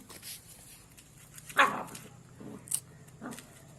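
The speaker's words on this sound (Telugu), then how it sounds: "తల్లి కుక్క" A single short bark or yelp from a mother street dog rises briefly over a quiet, low background, followed by a couple of fainter whimpering sounds.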